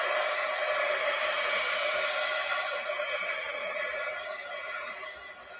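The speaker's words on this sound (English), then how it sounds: "I'm going to dry it. Sorry. Heat gun." A heat gun blows continuously with a steady, loud airy roar while drying a journal page, then eases slightly toward the end, with no talking over it.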